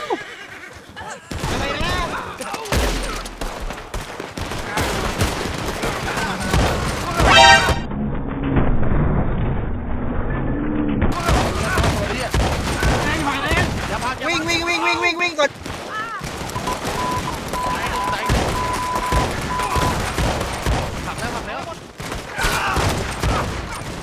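Video game gunfire rattles almost continuously in bursts and volleys at close to mid range, loud and dense, while players chatter over the shooting throughout.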